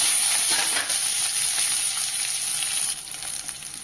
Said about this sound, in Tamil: அதுவும் நல்லா வதக்கிக்கோங்க. இது கூடவே கருவேப்பிலை இலைகளை சேர்த்துக்கோங்க